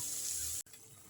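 A tumbler of water poured into a cooking pan of sautéed tomato and onion for a spicy potato masala, a brief quiet splash that stops abruptly.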